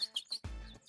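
A person in a studio comedy talk show whistles rapid, high birdlike chirps and trills in short bursts, with a brief breathy, rumbling sound midway, a voice imitating birdsong.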